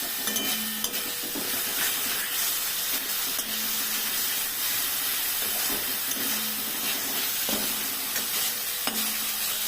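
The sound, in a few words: onion and coriander spice paste being sautéed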